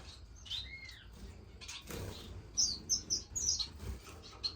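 Small pet finches in a bird room give high, thin chirps and tweets, scattered at first, then a quick run of sharp calls near the end, over a low room rumble and some faint rustling.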